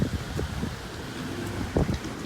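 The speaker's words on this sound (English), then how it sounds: "It's a windy day though up top there." Strong gusty wind blows across an open beach, buffeting the microphone with low rumbling bursts and a steady rushing hiss, with no voices present.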